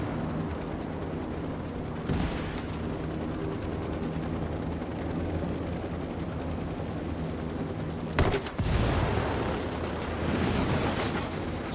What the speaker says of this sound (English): Apache's got you tagged,